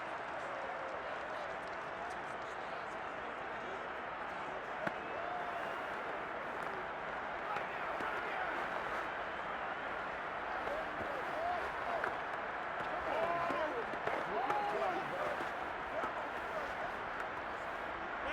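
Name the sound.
stadium crowd cheering in Madden 22 video game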